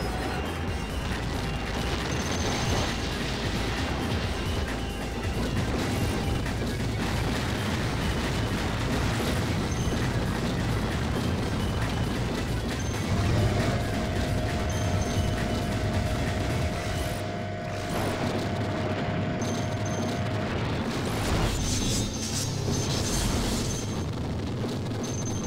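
Dense, continuous barrage of gunfire and explosions from the Capcom shoot-'em-up arcade game GigaWing, a loud unbroken wall of blasts and shots with a brief sustained tone midway.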